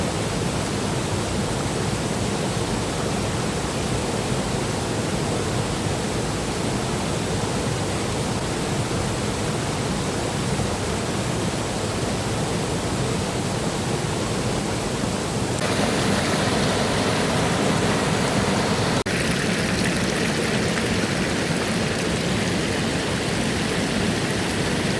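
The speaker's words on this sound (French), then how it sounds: "c'est un festival de cascades" The Hérisson waterfalls in the Jura roar in a continuous, loud, dense rush of falling water with no pauses, shifting slightly in tone partway through.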